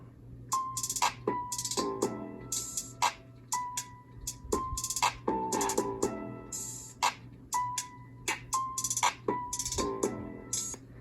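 Samsung Chromebook 4 laptop speakers play music with punchy beats and bright melodic notes, slightly thin and close, with a faint hum in the background.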